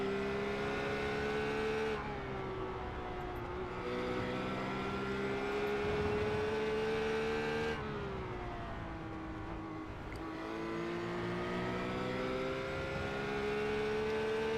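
A Holden Commodore race car races around Watkins Glen, its engine droning in a sustained high whine that shifts pitch through gear changes and corners, steady and continuous at moderate distance.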